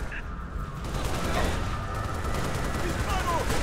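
Rapid bursts of gunfire in the video game Halo: Reach, crackling shots layered over constant busy game background noise, fairly distant and continuous.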